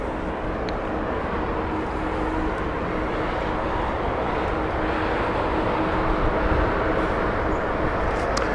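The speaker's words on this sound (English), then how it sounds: "Delta inbound next with their 767-400" A Delta Boeing 767-400 airliner inbound at Heathrow Airport, a steady broad jet roar that holds level throughout and swells slightly near the end, loud and unbroken, with no voices.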